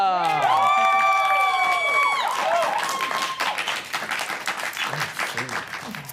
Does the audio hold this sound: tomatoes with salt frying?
no